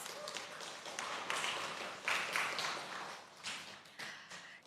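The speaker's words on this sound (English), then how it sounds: "Let's give them another round of applause" An audience at a youth climate business forum applauds panel speakers and a moderator, soft scattered clapping that swells and fades in a few waves, fairly quiet and heard from a distance.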